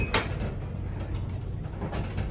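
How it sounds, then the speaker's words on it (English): An old birdcage elevator in Chicago grinds upward, its motor producing a low steady rumble with faint squealing tones and a sharp metallic clank at the start, continuous and moderately quiet. "You could literally hear the motor going as it went up."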